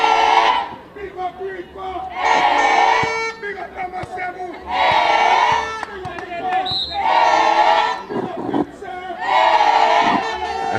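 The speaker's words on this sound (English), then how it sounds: "As the Vincent crowd is bigging up each individual player on the court." The St. Vincent crowd at a boys' volleyball match at the Windward Islands School Games cheers loudly. Roaring bursts of shouting from many voices rise and fall repeatedly, with brief quieter gaps between them.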